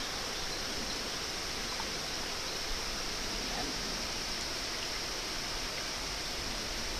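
A stream and small waterfalls at a campsite rush steadily, a broad, even wash of flowing water at moderate distance with no pauses.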